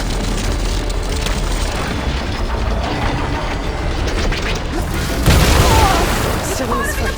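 Canister explosion in the video game Horizon Forbidden West, a loud booming blast that bursts out about two-thirds of the way through over continuous mechanical game noise and dialogue.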